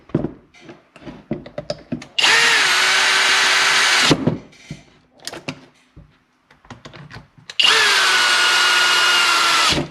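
A power tool snugs bolts in a crisscross pattern on a DeWALT D51822 clipped head framing nailer during an O-ring replacement, with two loud sustained whirring bursts about two seconds each, separated by clicks and handling noises, close up and without speech.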